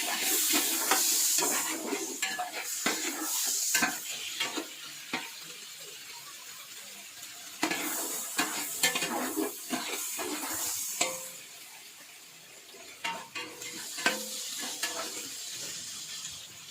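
Chicken pieces fried and stirred in a pot for degi-style pulao, with scraping and clattering of a spoon against metal over a steady sizzle, bursts of louder stirring recurring throughout.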